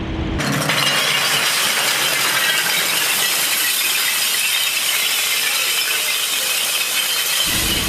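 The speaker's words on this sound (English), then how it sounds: "We're gonna start off with all of the glass dumped in one spot." Mixed brown, blue and clear recycled glass cullet pours and clatters steadily onto a pile at a recycling center, a loud continuous crunching rush that cuts off abruptly near the end.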